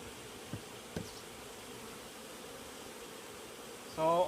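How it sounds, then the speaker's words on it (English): Honey bees swarm and buzz around an open beehive during an inspection, a dense, steady hum throughout with a couple of soft knocks and a louder rustle near the end. "The bees seem to be rather active"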